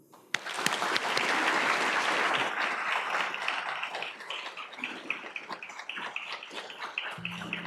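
Audience applause for a lecturer at a medical school lecture event, a dense sustained clapping from a crowd that starts abruptly, holds steady, then gradually thins out into scattered claps before fading.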